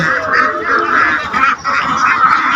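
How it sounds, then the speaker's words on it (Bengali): Dense flock of thousands of ducks at a duck farm, quacking continuously and loudly up close in an overlapping, unbroken chorus. "দেখুন কত হাঁস, হাজার হাজার হাঁস"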